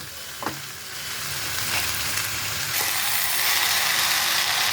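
Fenugreek greens with potatoes fry in a pan, a steady sizzle that swells louder as the leaves go in, with a few clicks and scrapes of stirring near the start.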